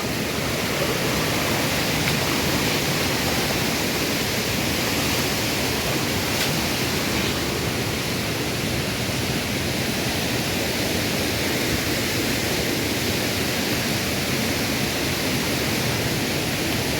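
Steady, loud broadband rush of the Meenvallam waterfall in a forest, continuous and unchanging throughout with no voices.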